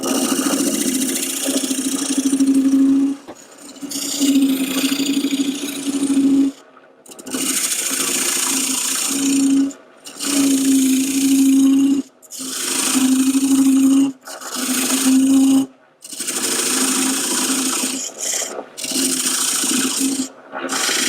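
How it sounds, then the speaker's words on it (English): A parting tool cuts into a small bubinga bowl spinning on a wood lathe, with a loud, close scraping hiss over a steady motor hum, broken by several short pauses as the tool lifts off the wood. "So I'm just going to take a parting tool and dig that out a little bit"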